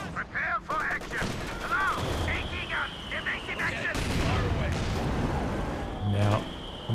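Mortar blasts and machine gun bursts from a Company of Heroes 2 2v2 battle, US and Soviet forces against the Axis, with scattered reports and broadband crashes running under steady commentary and busy background game noise.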